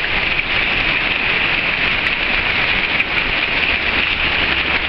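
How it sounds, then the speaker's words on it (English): Heavy rain pours down in a steady, dense hiss, loud and close, with no letup and no voices. "You can just see the sheets of water pouring down on the road out here outside of my house"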